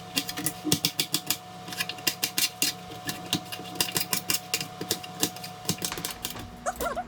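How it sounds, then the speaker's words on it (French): A knife dices a peeled red bell pepper into small cubes on a cutting board, giving a steady run of rapid, close, sharp chopping taps with a faint background hum. "Une fois que le poivron est épluché, je vais le couper en petits dés."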